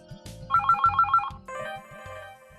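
A personal mobile phone rings with a bright, repeating electronic ringtone, a run of rapid melodic pulses followed by a second phrase, loud and close over low background music.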